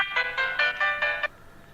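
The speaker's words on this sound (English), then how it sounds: "So that's my phone that's going off." A mobile phone ringtone goes off nearby: a bright, melodic chime of about five quick pulsing bursts, then it stops, leaving a quiet room.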